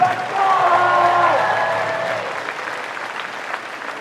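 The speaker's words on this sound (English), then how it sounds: "And round of applause for the wind ensemble." Applause from a concert audience in a high school gymnasium greets the wind ensemble, starting over a fading sustained tone and then continuing as dense clapping that slowly thins out.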